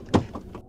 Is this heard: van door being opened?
yes